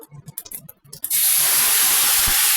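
A bay leaf and whole cumin hit hot oil in a pan, bursting into a loud, steady sizzle after a second of light clinks and handling noises, close and continuing without talk.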